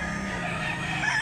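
A rooster, a Bullstag Green League gamefowl, crows in one brief, loud, strained call over a steady outdoor background, no speech.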